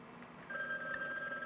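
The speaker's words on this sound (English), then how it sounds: "Ethel, let Margie answer the phone" A telephone rings indoors at a family dinner, a steady electronic bell tone that starts partway through and holds for about a second, fairly clear against a low room hum.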